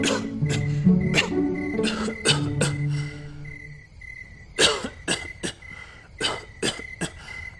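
An elderly man coughs repeatedly in harsh, rattling bursts, several clustered fits close to the listener, with a faint cricket-like tone behind.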